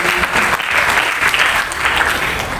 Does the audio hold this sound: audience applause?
yes